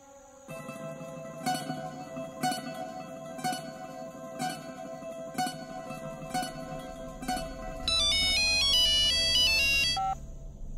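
A phone rings in a Marathi thriller drama scene, a tonal ringtone pulsing in regular bursts about once a second before switching to a faster melodic chime near the end, clear and close with no talking.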